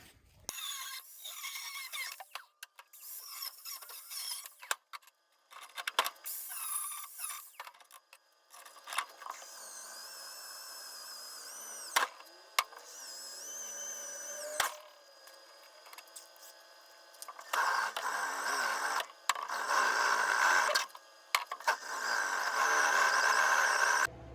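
Sheet metal is cut for a radiator support on a K-swapped Mini Cooper, with intermittent mechanical cutting bursts and whining tool passes, some brief and some sustained, close by with pauses between.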